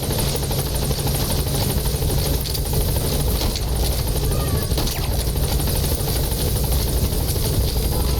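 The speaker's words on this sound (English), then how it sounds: "Support helicopter has arrived." A support helicopter in the video game Metal Gear Solid V: The Phantom Pain keeps up a loud, steady rotor and engine drone throughout, close by and unbroken.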